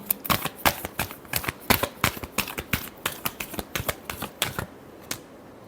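A deck of tarot cards is shuffled by hand in a quick run of crisp riffling snaps that stop near the end, with no talking over them.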